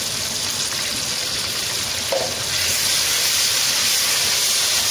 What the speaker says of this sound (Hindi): अदरक लहसुन को भी हम फ्राई कर लेंगे ऑयल में